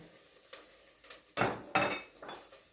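A spoon scraping and clanking against a pot while grated onion and tomato are stirred into meat, several distinct metallic strokes with soft sizzling between them, close and otherwise quiet.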